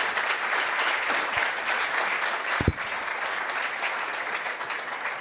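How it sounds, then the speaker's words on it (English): A conference audience in a main auditorium applauds its speakers, producing a loud, even wash of many hands clapping that stays steady throughout, with a faint voice briefly over it. "A big round of applause for our speakers"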